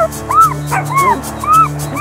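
Cartoon puppies in a French children's animated story yip, whimper and give soft barks in quick repeated bursts over a steady music bed, with no talking.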